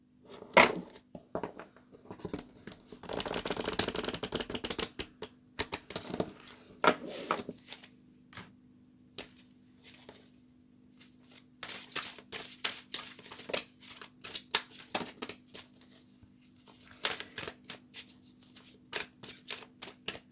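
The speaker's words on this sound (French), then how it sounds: "en espérant que les cartes tombent un petit peu plus rapidement" Tarot cards being shuffled and drawn, with bursts of riffling card noise and scattered sharp card snaps and taps over a low steady hum, close by and without talking.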